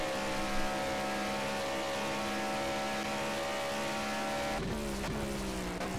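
GT3 race cars in Project CARS roar past in a dense pack at Spa-Francorchamps, steady layered engine drone with a sharp shift in pitch near the end as cars overtake, no talk.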